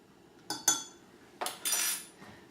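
A metal spoon clinks and scrapes against a bowl while ground spices for a quinoa salad are mixed, giving a few sharp close taps followed by a longer scraping stir, with no talking.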